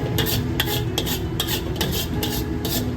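Spatula scraping and stirring spring roll filling of jicama in a wok as the sauce cooks down, with quick repeated rasping strokes every half second or so, close and clear, no voices.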